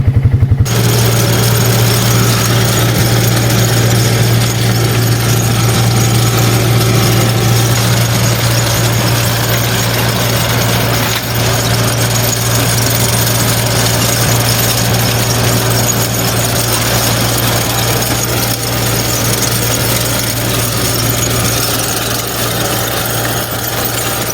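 A new motorcycle idles in neutral in winter, a loud, steady low engine drone with a constant hum that runs unbroken and close throughout, no talking.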